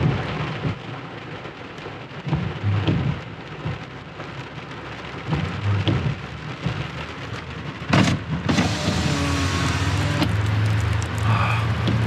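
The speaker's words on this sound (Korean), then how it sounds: "비 오는 게 너무 좋아요." Steady rain falls in Salt Lake City, Utah, heard from inside a car, with drops pattering on the body and glass and occasional louder sweeps and thumps over the constant wash.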